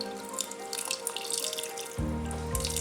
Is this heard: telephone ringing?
no